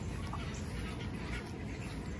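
Ducks quacking on a farm in the morning, a dense, noisy burst of calls that fills the whole short stretch with no talking.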